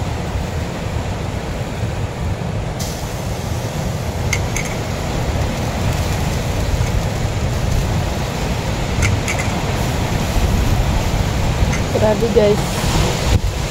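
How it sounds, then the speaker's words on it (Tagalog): Strong wind buffets the microphone in a constant loud roar throughout, with brief faint voices underneath. "Sobrang lakas po dito ng hangin"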